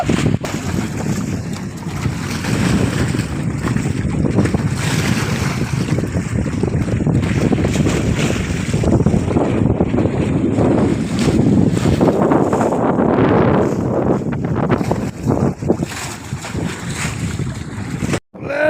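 A boat moves across open water, its steady wash blended with heavy wind buffeting the microphone in a constant broadband roar that lasts the whole stretch, with no voices.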